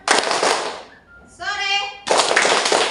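Indonesian scout-style clapping chant, 'tepuk selamat pagi', performed by a group: dense bursts of rhythmic hand clapping open and close the passage, with a chanted, sung-sounding voice in the pause between.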